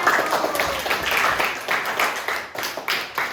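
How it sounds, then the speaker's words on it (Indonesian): A group in a training session claps for the first team, a loud, close burst of many hands with uneven rhythmic peaks that tapers off, ending in a few scattered claps. "Tepuk tangan untuk kelompok 1."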